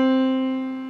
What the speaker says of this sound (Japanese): 普通ピアノの鍵盤っていうのはこれ真ん中のドの音ですけど